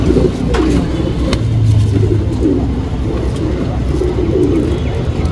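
A tournament-ready racing pigeon coos close by in a low, repeated rolling rhythm, with a steady background hum like distant traffic.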